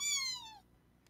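A single cat meow, loud and close, sliding gradually downward in pitch for about half a second, then a short quiet tail with a faint click at the end.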